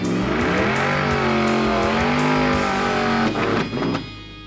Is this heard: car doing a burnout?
yes